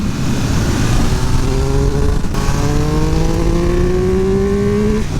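A Triumph Speed Triple 1200 RR superbike engine pulls hard through the revs, its loud, close whine climbing steadily, dipping briefly at a gear change, then rising again under strong acceleration.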